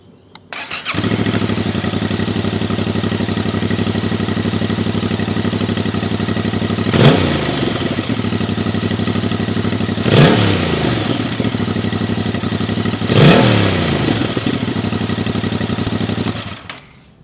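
A 2025 Yamaha MT-07 motorcycle idles close by with a low, steady rumble, broken by three quick throttle blips spaced a few seconds apart before the engine settles back.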